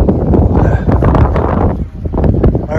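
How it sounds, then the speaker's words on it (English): Strong gusting wind buffets a microphone outdoors in Lewes, Delaware, a loud continuous rumbling roar that briefly eases near the end before surging again. "Yeah, it's windy."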